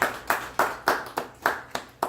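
After a poetry reading, a small audience claps in a sparse, spaced rhythm, about eight distinct claps with brief ringing decays in a reverberant room.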